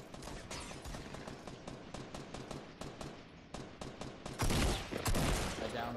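Rapid automatic gunfire in the video game Fortnite, loud repeated bursts of sharp cracks in quick rhythm, ending in a heavier, denser volley.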